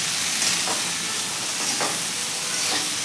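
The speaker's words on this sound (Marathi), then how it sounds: "मीठ देखील आपण व्यवस्थित असं मिक्स करून घेऊयात" Salt gets stirred into a dry potato curry in a pan, a steady sizzle with a few soft scrapes of the spoon through the potatoes, no talk.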